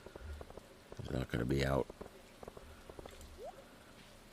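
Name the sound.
rain in the video game Stardew Valley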